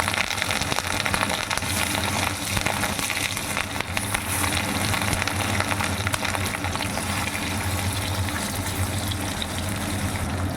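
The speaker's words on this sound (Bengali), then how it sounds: "একে একে কাতলা মাছগুলো ছেড়ে দিচ্ছি তেলের মধ্যে" Katla fish pieces frying in hot mustard oil, a dense, loud, roaring sizzle that fills the whole stretch without letting up, with no speech over it.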